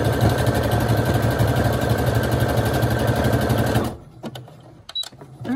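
A sewing machine backstitches through a soft book spine, running loud and steady with a continuous mechanical whir for about four seconds, then stops, leaving small handling clicks and rustles.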